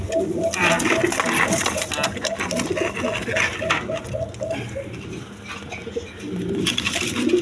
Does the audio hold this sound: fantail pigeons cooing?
yes